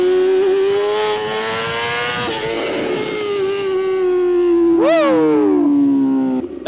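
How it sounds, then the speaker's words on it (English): A BMW motorcycle engine screams at a sustained high rev held at the redline through a wheelie, with a brief sharp rise and fall near the end; loud, close and steady with no talk. "Start the wheelie a little bit further back and see how long we can carry it right to red line"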